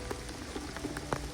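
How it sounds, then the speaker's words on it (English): Steady light rain patters on a surface by the River Wye, with scattered individual drops ticking louder now and then. "Yep, it's definitely rain."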